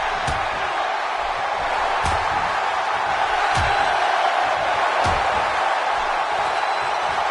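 A roaring arena crowd in the WWE 2K17 wrestling video game makes a dense, steady wash of cheering. Several dull thuds land at regular intervals beneath it.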